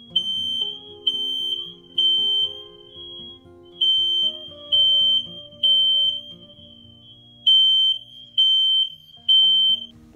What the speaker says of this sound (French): c'était l'alarme incendie